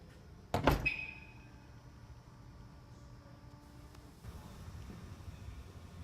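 Power trunk lid of a 2015 Audi A8 L 4.0T Quattro closing, a sharp latch thunk early on followed by a faint motor whir and quiet background hiss.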